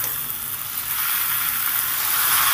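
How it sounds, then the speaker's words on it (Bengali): Okra and prawns frying in a pan, a loud, continuous close sizzle that swells slightly toward the end, with no voices. "ভাজা ভাজা করে নেব 2 মিনিট।"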